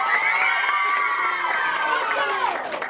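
A lively crowd of children cheers and shouts at a live game-show event, loud and sustained throughout with overlapping high voices.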